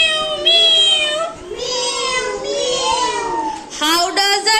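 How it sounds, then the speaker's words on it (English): A cat meows several times in a row, each call a clear, drawn-out, close-up cry, the last ones sharper and higher, with no other sound around them. "Cat sound? Meow, meow."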